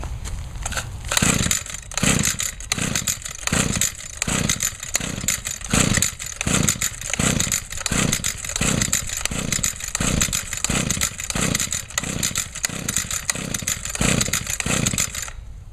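Someone pull-starts a cold Echo engine tool in winter, yanking the recoil cord over and over in an even rhythm of about one pull per second; the engine sputters but does not catch, close and loud.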